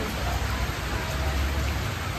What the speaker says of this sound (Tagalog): naka-raincoat na naman tayo kasi sobrang lakas ng ulan dito